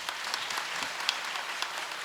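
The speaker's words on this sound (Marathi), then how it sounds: "आता टाळी वाजली पाहिजे." An audience at a Marathi devotional kirtan discourse claps steadily and evenly for about two seconds, with no voices over it.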